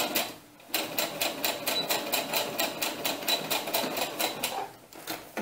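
A sewing machine runs steadily while stitching cheap dollar-store thread for a doll dress, giving a fast, even mechanical clatter for about five seconds after a brief pause near the start.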